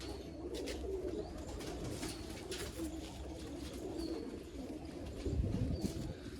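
Pigeons keep up a low, continuous cooing while feathers are plucked, joined by brief high chirps and a burst of rustling near the end.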